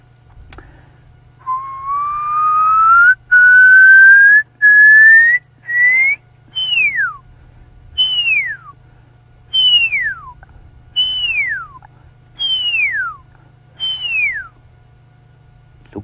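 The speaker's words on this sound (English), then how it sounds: "I'm going to try and whistle for him once more." A person whistles loudly outdoors at sunset to call an animal: one long rising whistle, then a series of about seven short falling whistles evenly spaced, over a steady low hum.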